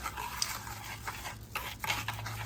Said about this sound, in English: And get it all stirred up.